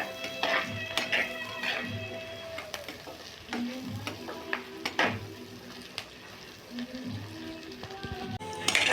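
Garlic cloves and curry leaves fry in a pan until golden, a steady sizzle with repeated scraping and clinks of a spoon stirring against the metal.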